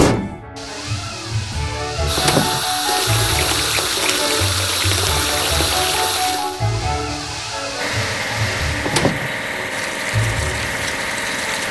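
Water sprays steadily to wash a barge in a kids' building game, a loud continuous hiss over a looping electronic music bed with chiming game effects.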